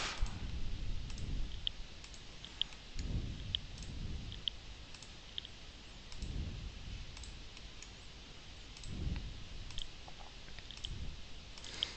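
Faint computer mouse clicks while taking measurements in Bluebeam Revu software, light isolated ticks spaced irregularly over a soft background with low thumps.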